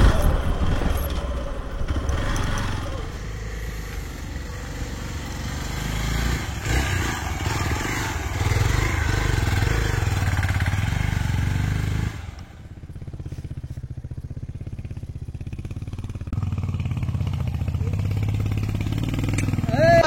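Motorcycle engine running steadily on a muddy off-road monsoon trail in Kaginahare, loud and close throughout, dipping briefly before picking up again, with people talking over it.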